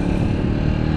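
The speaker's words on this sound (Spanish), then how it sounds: "yo aquí voy acelerando, voy a 40 kilómetros por hora." An Italika DT 125 motorcycle engine accelerates at around 40 km/h, droning steadily and loudly up close for a brief moment with no talk over it.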